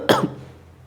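A single short cough, close and fairly loud, fading quickly into quiet room noise.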